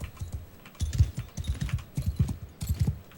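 Horse hooves clip-clopping in a steady, close rhythm in Mount & Blade 2: Bannerlord, with repeated paired hoofbeats at a moderate level and no talk.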